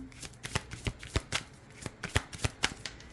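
Deck of Inner Star oracle cards being shuffled, a run of crisp papery riffles and slaps in an irregular rhythm, close and fairly loud with no talking.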